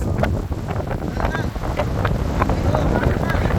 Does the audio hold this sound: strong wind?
yes